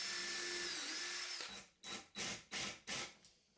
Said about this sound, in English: I'm pre-drilling a notch with a Forstner bit to make